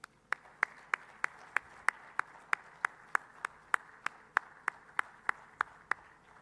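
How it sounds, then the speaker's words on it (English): Clapping at a company investor day: about twenty sharp, evenly spaced single claps in a slow, steady rhythm, fairly faint and distant, with no crowd roar between them. "let the team applaud themselves for having achieved these"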